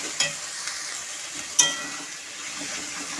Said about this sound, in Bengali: এবার আমি এই মটরশুঁটিটাকে আর মশলাটাকে 15-20 মিনিট ধরে কষাবো